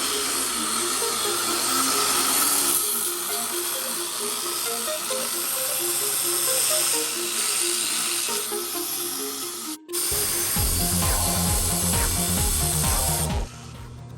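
Power tool cutting through an old car exhaust flange, a steady loud grinding whine with rattling tool tones, briefly cutting out and then resuming with a harsher, choppier mechanical sound.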